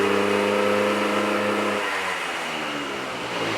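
A 1980s Honda Lead NH125 scooter engine revs up close, a loud steady drone with strong harmonics that drops and settles into a rougher idle after a couple of seconds.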